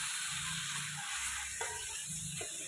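Chicken pieces from a village country hen go into spice paste frying in oil over a wood-fired stove, giving a steady close sizzle with low stirring scrapes and occasional clinks.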